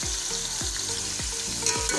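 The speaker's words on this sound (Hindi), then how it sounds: "प्याज को हमने अच्छी तरह ब्राउन कर लिया" Chopped onions frying in hot oil in a pot for yakhni pulao, a steady close sizzle with a few rhythmic scraping stirs repeating about every half second.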